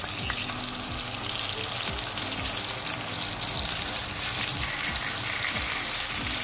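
Potatoes frying in oil for a vegetable biryani, giving a steady, close, loud sizzle and crackle with no voices over it.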